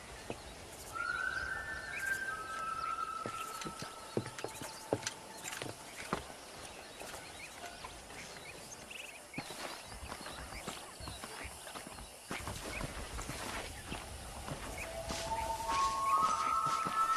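Steady hoofbeats of a walking horse clip-clop along in the video game Red Dead Redemption while moving cattle, with occasional whinnies and a faint background hum, moderately loud and continuous.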